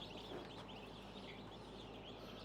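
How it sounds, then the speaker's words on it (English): Soft peeping of a small duck mixed in among about 500 baby chickens in a brooder house, a steady dense chorus of chirps and faint cheeps with low background hum, no talking. "Oh, got a little duck."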